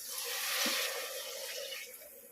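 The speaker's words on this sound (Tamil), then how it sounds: "ஒரு அழகு 2 கிளாஸ் தண்ணின்னா இது 3 கிளாஸ் தண்ணி இது ஊற்றுறேன்" Water pours from a vessel into a cooking pot in a home kitchen, a close, steady splashing gush lasting a couple of seconds and tapering off.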